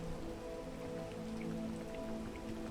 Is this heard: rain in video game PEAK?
yes